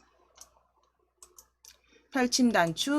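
A computer mouse gives several faint, quick clicks while working in a spreadsheet program, followed by a person talking closely and loudly.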